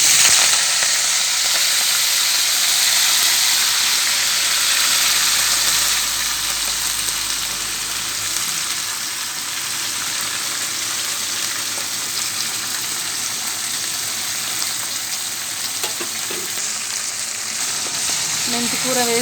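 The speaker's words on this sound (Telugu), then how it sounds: "మెంతికూర వేసుకుంటున్నాను" Fenugreek leaves dropped into hot tempering oil with fried seeds sizzle and hiss steadily and loudly, a dense continuous frying sound that eases slightly after a few seconds and carries on without pause.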